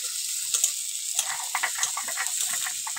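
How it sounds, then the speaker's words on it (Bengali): Onion and garlic fry in a pan with a steady, bright hiss and sizzle, close by, while light taps and scrapes of a utensil come through irregularly over the sizzling. "পেঁয়াজ রসুনটা একটু ভেজে নেব"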